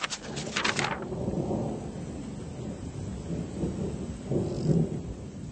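A thunderstorm rumbles through an animated story scene, opening with a sharp thunderclap that settles into a low, sustained roll, then swells again near the end. No voices are heard.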